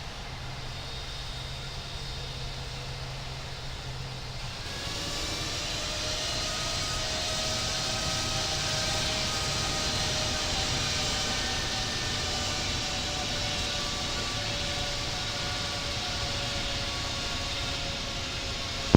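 Jet airliner taxiing in the Infinite Flight simulator, a steady engine drone with a whining tone that rises and holds after a quieter opening, continuous and alone without speech.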